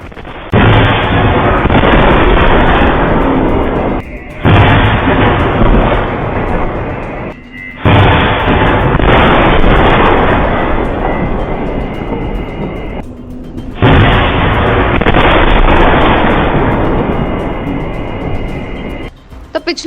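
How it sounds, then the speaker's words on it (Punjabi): A missile blast during India–Pakistan hostilities: loud, sustained rumbling roars in several long bursts separated by brief drops in level. "ਇਸ ਦੇ ਧਮਾਕੇ ਦੀ ਆਵਾਜ਼ 10 ਕਿਲੋਮੀਟਰ ਤੱਕ ਲੋਕਾਂ ਨੂੰ ਸੁਣਾਈ ਦਿੱਤੀ ਹੈ"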